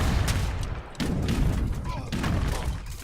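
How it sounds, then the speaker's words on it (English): Cannons fire during an Age of Empires match on the Orinoco map, a continuous rolling barrage of booms and thuds in uneven bursts, with a short dip in the noise before heavy firing resumes. "that's mostly a lot of cannon shooting at the start of Orinoco anyway"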